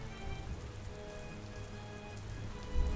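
Steady rain falls on a surface in the Pokémon video game, a dense even patter with faint tonal game music underneath and no voices.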